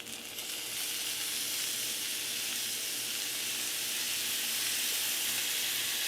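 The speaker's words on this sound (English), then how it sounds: "added the vegetables into the same skillet. After a few minutes of it cooking down" Beef, peppers and vegetables sizzle steadily in a skillet, a loud continuous frying hiss that holds even throughout with no talking.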